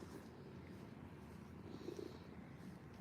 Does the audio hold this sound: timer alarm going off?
no